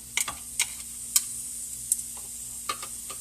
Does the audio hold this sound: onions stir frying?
yes